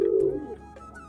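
Pigeon giving a single short, low coo, close and clear, with faint background noise.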